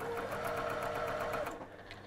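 Sewing machine stitching a gift pouch, a fast, even mechanical whir close by that slows and stops near the end.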